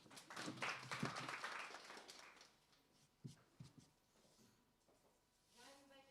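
Audience applause at a startup pitch event fills the first seconds, loud and dense, then fades into scattered claps as a voice begins speaking near the end.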